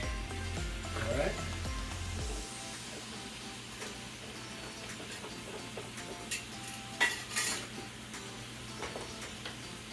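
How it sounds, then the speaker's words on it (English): Chicken pot pie filling stirred in a pot, with soft scraping and faint clinks of a utensil against the pot over a low simmering background, quiet and intermittent, with a couple of brighter knocks near the end. "I'm going to stir this in"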